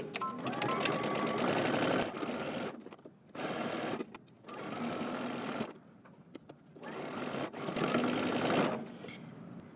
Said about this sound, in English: You're going to continue sewing all the way around.